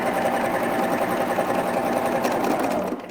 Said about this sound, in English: I'm going to test my stitch and get all those extra threads out of there.